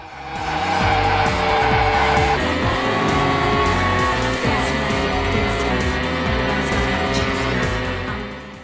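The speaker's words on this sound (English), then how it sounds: "There isn't much boom to the collision effects, and the engines sound a bit whiny." Race car engines from the Sega Saturn racing game Wangan Dead Heat whine loudly and continuously alongside tire squeals and skidding, with steady in-game music running underneath throughout.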